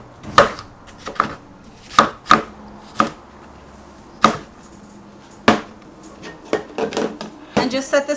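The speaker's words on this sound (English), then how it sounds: "So you just want to chop up your red bell pepper." Knife chopping a red bell pepper on a cutting board: a series of sharp, close, irregularly spaced knocks, some in quick pairs and clusters, with faint kitchen background between strokes.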